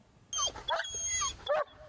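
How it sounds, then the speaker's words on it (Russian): Service dogs at a training kennel in Ussuriysk, heard as a few short close yips and whimpering barks in quick bursts over about two seconds. "В Уссурийске находится питомник, где выращивают служебных псов и закладывают основы дрессировки."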